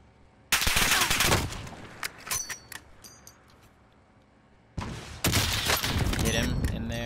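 Bursts of automatic gunfire in a Warzone trios match, two loud sustained volleys separated by a quieter stretch with scattered shots, with players talking over the action.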